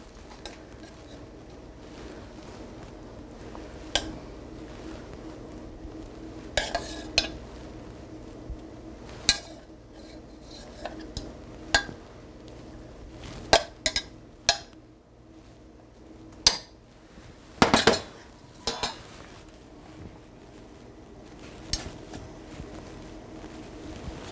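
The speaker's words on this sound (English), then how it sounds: "we're going to spoon some of the sauce" Sauce is spooned from a pan in a home kitchen, giving scattered sharp clinks of a metal spoon against cookware at irregular intervals, close and moderately loud over a quiet background.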